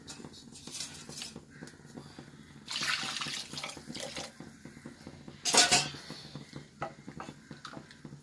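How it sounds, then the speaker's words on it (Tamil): Water splashes into a pot of coconut-milk anchovy curry in a few short bursts, mixed with the clink and clatter of pans and utensils. "இப்போ தண்ணி சேர்த்துடலாம்"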